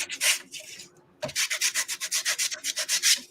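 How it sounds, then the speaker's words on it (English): An electric sander works over a mixed media garden-themed art journal page in quick rhythmic passes, each stroke a close, loud rasping burst; it pauses briefly near the middle before resuming steady back-and-forth sanding. "Who knew the sander would come in handy again in one stream?"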